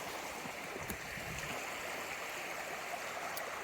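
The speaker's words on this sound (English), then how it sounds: "Right by the Wallenpaupack Creek." Wallenpaupack Creek in Delaware State Forest flows with a soft, continuous, steady babble of moving water, heard close by with no talking.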